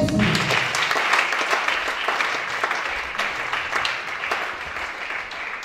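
A church congregation applauds for Jesus during a testimony service, a dense, continuous crowd applause that holds steady for several seconds and tapers slightly toward the end.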